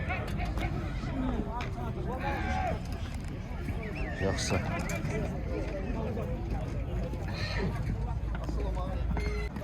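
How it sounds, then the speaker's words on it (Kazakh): Horses at an evening livestock market in Malbazar, Kyzylorda, neighing and whinnying amid hoof clip-clop and a steady crowd babble, with people talking nearby throughout. "Малдар енді келіп жатыр базарға кешке қарай салқынмен"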